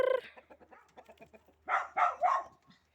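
Rooster and hens on a village farm, a short burst of clucking followed by several loud, close squawking calls in quick succession, with no talk over them.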